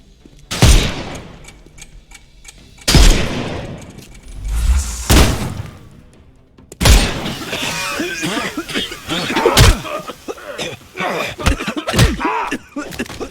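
Gunfire in the video game Sherlock Holmes Chapter One, loud separate shots cracking out at irregular intervals, with a denser flurry of rapid bangs and clattering effects in the second half.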